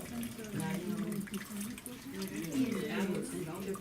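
Water pours steadily into a jar during an outdoor field day activity, a continuous splashing hiss running under a person's speaking voice.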